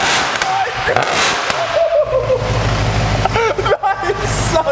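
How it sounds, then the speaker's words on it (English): A wrecked Mercedes C63 AMG with a loud aftermarket exhaust revs hard up close, throwing off sharp cracks and pops over a deep, rumbling idle, while people talk and react throughout. "we're going to give it a few revs"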